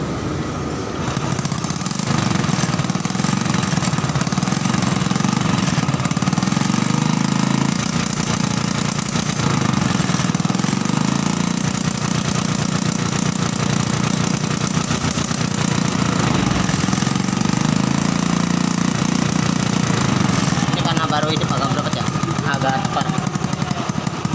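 A small Honda motorcycle engine, long unserviced, runs steadily and loud throughout, a rough, rattling idle with slight shifts in pitch, close by and unbroken.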